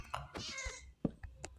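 A cat in the Minecraft video game meows in short synthetic bursts, two or three clear cries in quick succession, fairly close and alone with no speech.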